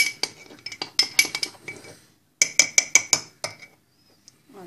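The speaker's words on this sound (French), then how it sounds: "On mélange. Très rapidement aussi." A spoon clinks against a mug while Nutella mug cake batter is mixed quickly, a series of sharp metallic taps in two bursts with a short pause between, close and clear with no talking.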